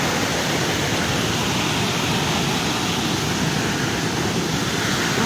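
The Tetenitagara waterfall at Nagiapasi roars in a steady, dense rush of falling water that stays loud and unbroken throughout, with no voices.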